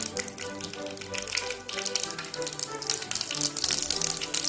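Mustard seeds crackle and pop in hot oil for a Kerala-style beef ularthiyathu, a dense, steady run of quick snaps and sputters close by with no talk over it.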